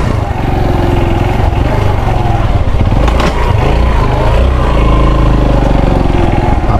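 Roger's motorcycle engine runs loud and close, a steady rough rumble that holds evenly throughout without pause.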